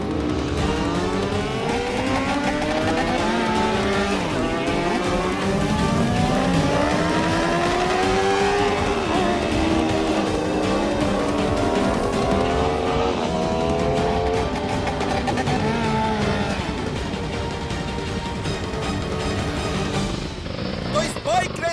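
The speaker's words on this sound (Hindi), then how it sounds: "तो इस बाइक रेस के विजेता हैं" Motorcycles in a bike race rev and whine past in overlapping rising and falling engine tones, loud and continuous throughout, with a dense roar underneath.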